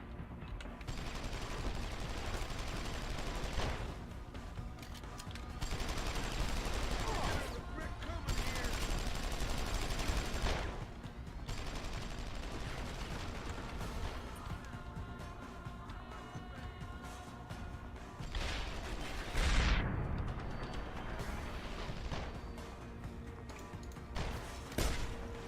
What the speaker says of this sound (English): Took like 5 shots with the sniper and he dies.